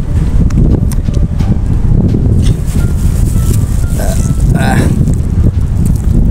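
Strong, steady wind roars across the microphone, a constant low rumble with gusty buffeting throughout, while a few brief higher sounds flicker through.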